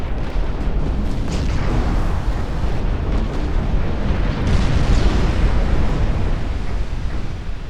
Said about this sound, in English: Maria Juan instantly exploding.